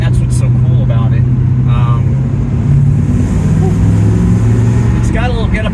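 Ford Ranchero car-truck accelerating on a road test, a steady low engine drone rising in pitch, close and loud, with people talking over it.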